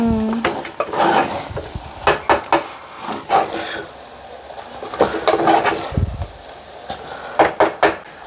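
Salted mixture stirred and frying in a pan, with a soft steady sizzle beneath repeated scraping strokes of a spoon against the pan's metal, close and moderately loud.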